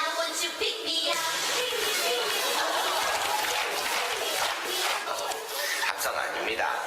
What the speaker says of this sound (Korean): 함성입니다.